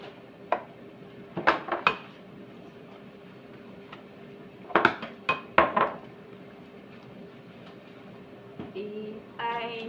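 Dishes, pots and pans being washed by hand, with scattered clinks and clatters of utensils and cookware in short bursts over a steady background hum, louder clusters midway and a rattling run near the end.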